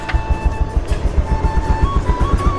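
Bajaj Pulsar 150 motorcycle engine running just after a cold start, with a tensioner adjusted for timing chain noise: a steady, close, fast-pulsing single-cylinder idle with no voices.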